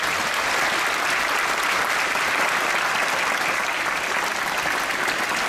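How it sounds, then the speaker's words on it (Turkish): A crowd applauds a youth choir at a municipal Atatürk commemoration program in Şile, producing a loud, dense, unbroken wash of clapping that holds steady throughout. "her birine kuvvet dolu, yürek dolu alkışı lütfen"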